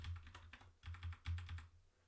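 Typing on a computer keyboard during a hacking session, several quick keystrokes in small clusters with brief pauses, close and clear with a low thumping undertone.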